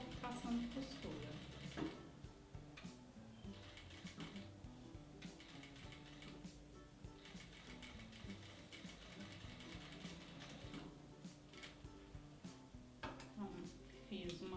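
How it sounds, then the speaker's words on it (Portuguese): A sewing machine stitching a fabric phone accessory holder, a steady mechanical whir and rapid needle rhythm running almost continuously at close range, with someone talking over it. "Então, fiz uma costurinha aqui, ó."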